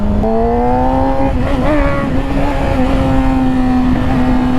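Close, steady engine drone from a motorcycle riding around town with a slipping clutch, holding a fairly even pitch with slight wavers and no talking.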